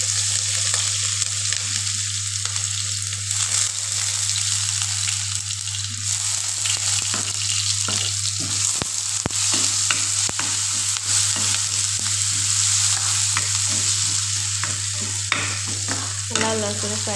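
Whole cumin and garlic paste fry in oil for a lentil dish with drumstick and mango, a constant close sizzle broken by repeated sharp stirring scrapes and clacks against the pan, under a steady low hum and no voices.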